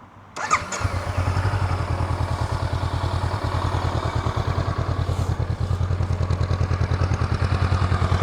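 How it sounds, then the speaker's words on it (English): A Honda CB500X motorcycle engine fires up and settles into a loud, steady, lumpy idle with a rapid thumping rhythm close by. "I shall show you what the engine sounds like"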